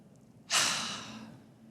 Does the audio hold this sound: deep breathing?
yes